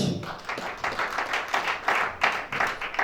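A church conference congregation claps in rhythmic bursts, a steady, brisk pattern of many hands that is fairly close and moderately loud.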